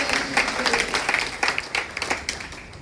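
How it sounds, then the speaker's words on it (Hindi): An audience at a skills-training seminar breaks into lively applause, a dense, close stream of overlapping hand claps with rhythmic peaks, lasting about three seconds. "जोरदार ताली होना चाहिए हमारे"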